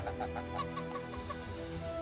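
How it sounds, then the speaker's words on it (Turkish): Geese on a village farm in Turkey's Black Sea region keep up a dense, continuous chorus of honking, clucking calls, nearby and steady throughout with no voices. "Karadeniz'de kaz yetişir mi?"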